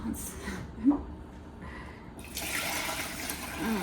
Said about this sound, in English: can I pour this into the mold without making a mess?